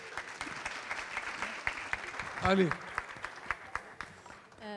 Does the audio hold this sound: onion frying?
no